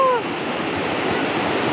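Waterfall on a river rushes as a steady, fairly loud broadband roar that fills the whole stretch, with a brief high voice-like call at the very start.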